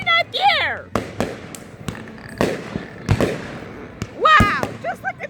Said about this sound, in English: Wow! Just look at those fireworks!